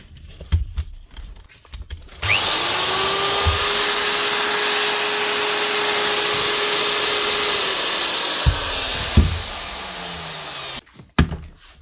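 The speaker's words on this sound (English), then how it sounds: "Set of brushes and a little file keeps this Makita angle drill up and running" A Makita angle drill from 2007, freshly fitted with new brushes, whirs loudly and steadily for about nine seconds after a few clicks and handling knocks, then winds down and stops.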